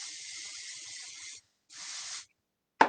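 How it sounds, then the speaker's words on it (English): Dry oil hair spray from an aerosol can hisses in two bursts, a long one and then a shorter one after a pause, followed by a sharp click. "So even when I put in my dry oil spray,"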